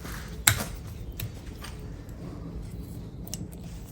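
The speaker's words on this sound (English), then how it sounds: "we just make a sloping cut away from the branch" A bonsai branch is snipped with cutters on a neglected tree, one sharp close cut followed by a few fainter clicks and handling noise.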